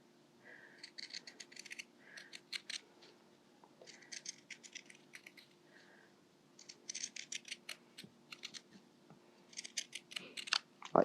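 Scissors snip in a zigzag along a cotton fabric seam allowance close to the stitching of a homemade soft toy, giving bursts of short crisp cuts in repeated runs with brief pauses, near and fairly quiet, with no voices.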